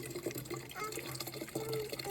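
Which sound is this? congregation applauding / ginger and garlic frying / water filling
water filling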